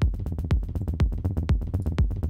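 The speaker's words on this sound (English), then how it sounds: "You can maybe want the beginning of the sound to be a straight pluck and then come down and then come up later in the sound" Serum synth pluck shaped with LFO Tools, sharp plucked notes in a bouncy repeating pattern with strong low thumps every half second, up close and alone.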